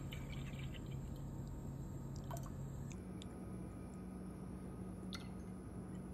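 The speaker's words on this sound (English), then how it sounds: "And I'm gonna pour in that milk." Milk is poured softly into a stainless steel IKEA pot, giving a quiet, close, continuous liquid trickle with faint drips and no talking.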